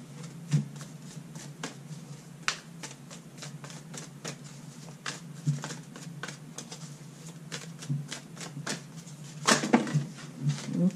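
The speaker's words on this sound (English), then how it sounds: "Do that while I shuffle." Cards being shuffled close by, a steady run of soft riffling and papery flicks with a few sharper snaps, no talking.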